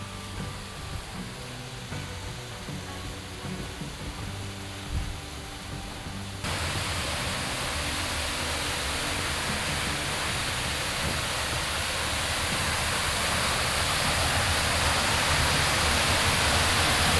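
Winter waterfall with partly frozen ice falls in Vidzeme, Latvia: a steady broadband roar of rushing water that grows noticeably louder and closer partway through, continuous with no voices.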